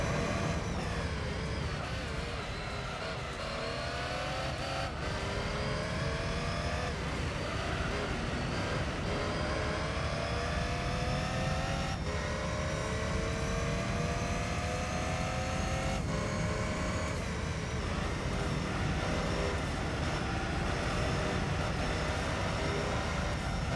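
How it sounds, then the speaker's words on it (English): A Pagani Zonda's engine roars through a race in Gran Turismo 3, a loud continuous drone rising and falling with repeated upshifts and revving, with no voices. "We're zooming in the Zonda."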